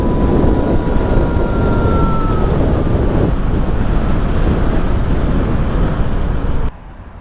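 Wind buffeting a microphone while riding along a road on a hot day, a loud continuous low rumble and roar throughout that drops away abruptly near the end.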